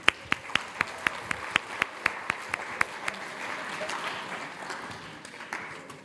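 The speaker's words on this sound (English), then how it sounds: "Let's give him a round of applause." A small audience at a lecture on harnessing wind for energy gives about a dozen sparse, evenly spaced hand claps that soon fade into a quiet murmur of room noise.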